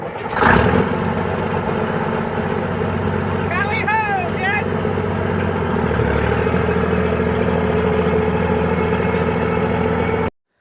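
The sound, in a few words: old tractor engine running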